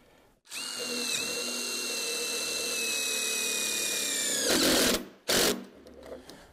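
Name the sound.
power drill fastening screws into a post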